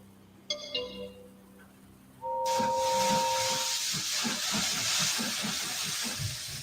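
A steam engine's hiss that surges suddenly from a quiet start and stays loud and steady, with rhythmic chuffing pulses beneath it and an earlier short whistle-like tone.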